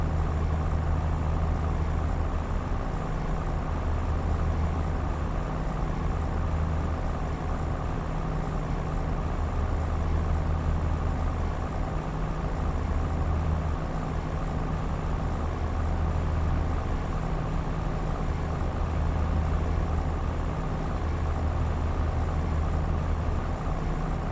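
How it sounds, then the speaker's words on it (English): A 1960s truck engine idles steadily, a deep low rumble with a regular throb that carries on unchanged throughout, with no voices over it. "Truck sounds like a tractor. It's a 1960s truck."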